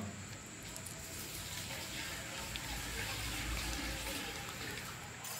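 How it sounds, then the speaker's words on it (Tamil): Steady rushing of water pouring into an aquarium tank and splashing continuously, close by, with a faint high hiss running through it. "இனி தண்ணி ஊற்றி பார்க்க வேண்டியதான்."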